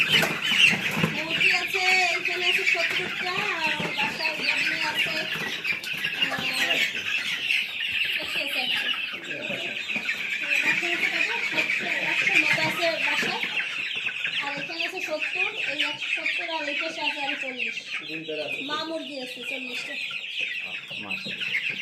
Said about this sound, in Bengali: এখন খামারে টোটাল মুরগি কেমন